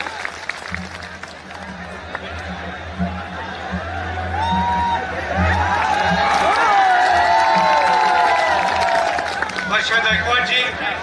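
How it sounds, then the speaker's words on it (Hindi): A large crowd at a political rally for Rahul Gandhi in Prayagraj breaks into applause and cheering that swells and holds loud, with whoops and whistles, while a voice speaks over the opening seconds. "मैं चाहता हूं जोरदार तालियों के साथ आप उनका ऐतिहासिक स्वागत करें।"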